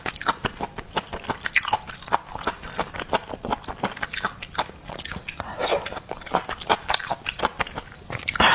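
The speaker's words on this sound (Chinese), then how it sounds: "再吃一块" Close, crisp biting and crunchy chewing on seafood such as oyster, shrimp, crab and squid, a steady run of wet crunches and chomps with no talking.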